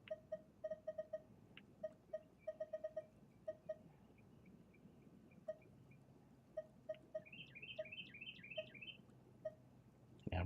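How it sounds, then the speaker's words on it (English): A bird calls outside, repeating short sharp chirps in quick bursts, then a run of rising whistled notes near the end, faint against a low background hum. "I'm pretty sure y'all can hear that. That bird be talking, bro."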